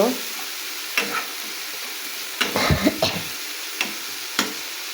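Spices sautéed with onion and garlic in a pan, a soft sizzle under repeated sharp scrapes and clatters of a spatula stirring, a busier burst of stirring in the middle, no talking.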